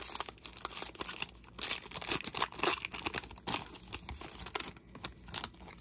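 A Donruss blaster trading card pack being torn open, with close, crinkly ripping and crumpling of the foil wrapper in uneven bursts, no talking.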